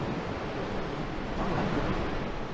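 Ocean waves along rocky cliffs make a continuous broadband wash of surf, steady and fairly loud, mixed with wind rush on the microphone and no talking.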